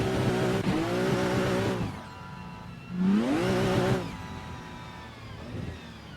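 In the Assetto Corsa driving game, a pro drift car's engine revs loud and close through two rising gear pulls as the tires squeal, then settles to a steadier drone.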